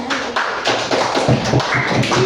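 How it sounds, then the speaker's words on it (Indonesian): Classroom applause, a short burst of several claps close by, uneven and quick, lasting a couple of seconds with no talking over it. "Ini tepuk tangan dulu"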